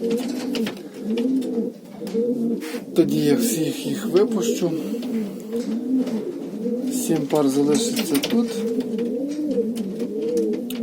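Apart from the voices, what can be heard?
pigeons cooing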